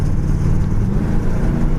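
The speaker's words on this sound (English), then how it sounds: "There's your transmission kick down." A 1975 Chevrolet El Camino on a road drive downshifts as the transmission kicks down, a loud, steady low engine drone and rumble rising under acceleration inside the cabin, with no talking.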